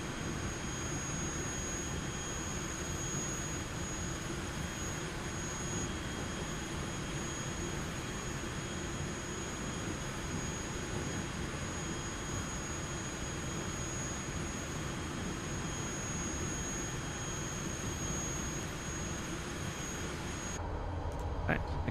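Airplane engine roaring steadily during takeoff in Microsoft Flight Simulator 2024, a loud continuous drone with broadband rumble that holds for about twenty seconds before dropping off abruptly at the end; a voice speaks faintly underneath.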